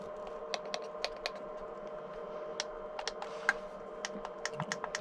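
Crisp plastic clicks from the toggle switches on a Futaba T10PX radio transmitter, a dozen or so sharp, close taps at an irregular pace over a faint steady hum.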